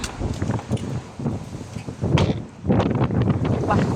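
Strong, gusty wind buffets the microphone in a broad roar that surges and dips, with a brief lull partway through before rising again.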